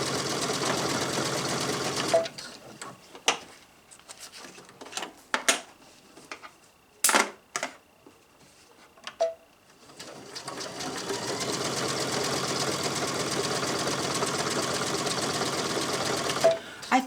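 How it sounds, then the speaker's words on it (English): A domestic sewing machine whirs steadily in two long stitching runs on a yard flag, separated by a quieter stretch of clicks and handling noises. "I haven't used this as a sewing machine in a very long time"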